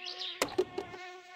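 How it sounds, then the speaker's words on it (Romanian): A mosquito whines steadily in My Summer Car, a thin continuous buzz close by with a few soft thumps and clicks partway through, no talking. "ăsta e țânțar. Asta e țânțarul."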